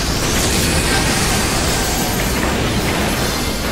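A sustained, dense roar of an explosion in Final Fantasy XIV fills the whole moment, loud and steady like a continuous blast or rumble without any breaks.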